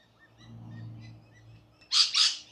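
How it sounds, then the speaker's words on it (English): Parrots call near a footpath along the Johnstone River in Innisfail, Australia: two sharp, loud squawks close together near the end, after a low murmur of quiet background sound. "You can hear a lot of parrots and that."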